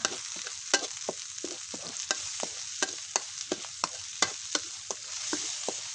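Coconut milk is stir-fried in a pan for a spicy beef curry with eggplant, cooking until its oil separates. A soft, continuous sizzle runs under repeated sharp scrapes and taps of the spatula, and no one speaks.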